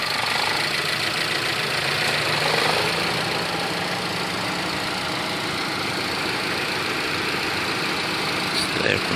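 A 1.8 DOHC engine in a used Chevrolet Cruze LTZ automatic idles with a smooth, steady hum and light ticking, heard up close and unbroken throughout.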